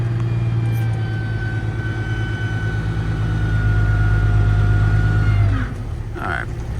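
A Peterbilt dump truck idles loudly and steadily with a deep low engine drone and whine while its bed tips to dump the load, then the engine note drops near the end, followed by a faint clatter.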